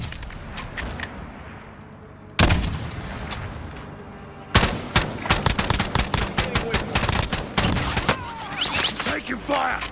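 Gunfire in a Call of Duty battle royale match, with scattered distant shots giving way to loud bursts of rapid automatic fire and repeated shots close by, while a voice speaks intermittently over it.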